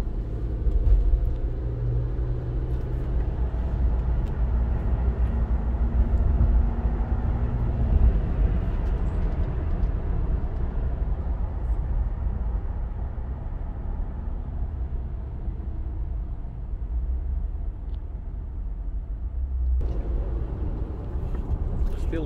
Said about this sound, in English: Drive the car a little bit and then we'll do a video of outside.